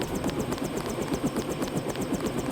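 Helicopter from the Deus Ex video game, a steady rotor drone with rhythmic chopping pulses that hold evenly loud throughout, close by and with no talk over it.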